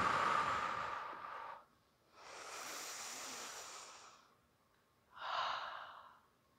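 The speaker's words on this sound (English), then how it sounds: "Big inhale and exhale here." Deep yoga breathing: a long inhale, then a slow, drawn-out exhale, then a shorter breath, all close and clear with no talk over it.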